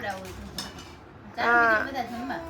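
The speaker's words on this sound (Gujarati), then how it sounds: "અહીં બધાની ડીશ પણ રેડી થઈ ગઈ છે અને પ્રાચી બેન પણ જમી રહ્યા છે" Plates and cutlery clink softly at a home lunch, with a few scattered light knocks while people talk nearby.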